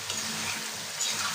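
Potatoes being stirred into beef curry in a hot pan, a steady sizzle and frying crackle with soft scraping of the spoon, close and continuous.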